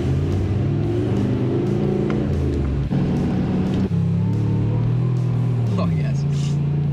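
A supercharged Hemi RAM 1500 pickup truck powers off the line in a drag race, its loud, steady low engine roar building through the run with a brief dip mid-pull, while people talk excitedly over it.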